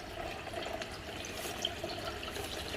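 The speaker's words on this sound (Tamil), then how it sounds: "இதுதான் நம்ம வீட்டில் இருக்கிற வாட்டர் ஃபால்ஸ்." Steady gentle trickle and splash from a small home-built garden waterfall, continuous and fairly quiet, with no voices.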